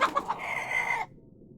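A chicken gives a short burst of clucks that rises into a brief crowing squawk, a single alert call ending abruptly in silence.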